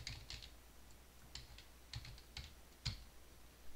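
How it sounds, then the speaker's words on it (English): Quiet typing on a computer keyboard, a few short bursts of light key clicks separated by brief pauses, close and soft. "let's just go ahead and type your last name underscore lab 1"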